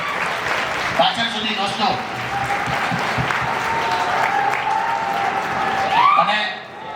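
Students in an audience give loud applause for their teachers at a gathering with a celebrity guest, steady clapping over several seconds while someone speaks over it.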